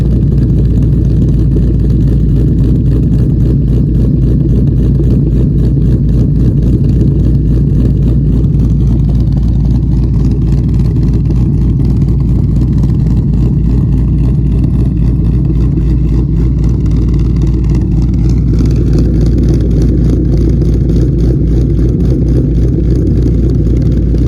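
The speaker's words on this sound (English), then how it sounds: "So yeah, that's the Ghost Cam tune." A 2014 Mustang GT 5.0 with a Bama Ghost Cam tune idles close and loud, its lumpy, loping burble running continuously with no voices over it.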